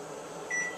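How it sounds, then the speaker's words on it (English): A microwave oven runs with a low, steady hum, and a faint, brief tone rises over it partway through. "I'm going to place it inside the microwave."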